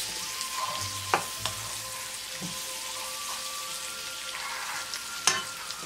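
Beef and snow peas fry in a pan with a soft continuous sizzle, punctuated by a few sharp clacks of a utensil against the pan, close and moderately quiet, with no speech.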